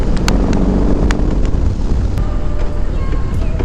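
Steady low engine rumble and heavy wind rush from a BMW R18 motorcycle on a first ride, loud and continuous with the ride, the engine drone buried in buffeting air across the whole stretch.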